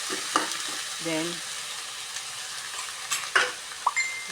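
Shrimp sizzle in a hot pan while being stirred, giving a soft continuous frying hiss with a few scraping and clinking strokes, and a voice briefly speaks once.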